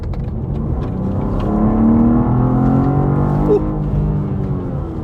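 A 2024 BMW M2 G87 accelerates under throttle, its engine note climbing in a loud, rising drone heard from inside the car, then settling back.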